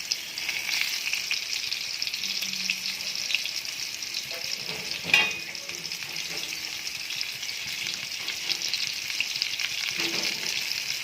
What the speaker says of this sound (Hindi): तो अब हम इसको फ्राई करेंगे।